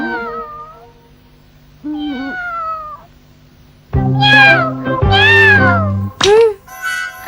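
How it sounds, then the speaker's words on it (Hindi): A stray cat meows repeatedly, first two soft drawn-out cries, then several loud, close, wavering meows in quick succession near the end, with no talk. "ये बिल्ली ही है।"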